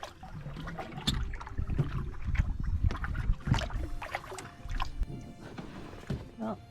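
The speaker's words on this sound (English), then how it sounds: "So just paddle through." A canoe paddled through shallow water on a quiet autumn outing, with close sloshing and dripping paddle strokes and irregular splashes under a low breathy background.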